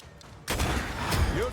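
Gunfire in the video game Banishers: Ghosts of New Eden, a sudden loud burst of shots after a quiet moment, continuing as a rumbling volley with game sounds mixed in.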